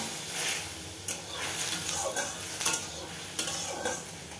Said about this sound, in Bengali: পেঁয়াজটাকে ভালো করে আমি লাল লাল করে ভেজে নেব।